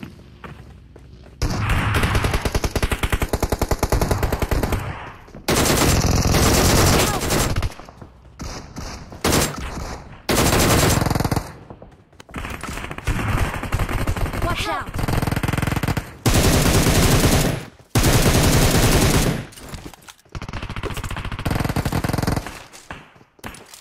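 Gunfire in the mobile game PUBG Mobile, long loud bursts of automatic fire broken by short pauses, close and dominant, with thuds and a little talk in between.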